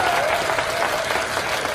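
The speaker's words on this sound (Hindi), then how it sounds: "Round of applause for yourself." Stand-up comedy audience applauding at the end of a set, dense continuous clapping with some cheering, loud and close, no speech over it.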